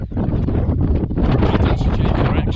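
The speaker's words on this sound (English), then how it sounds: "It's windy." Loud wind roars against the microphone at a tarp campsite during a thunderstorm, in heavy, continuous buffeting gusts, close and rumbling.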